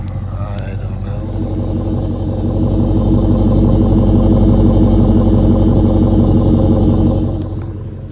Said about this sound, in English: thing that I love that it has is the aftermarket exhaust.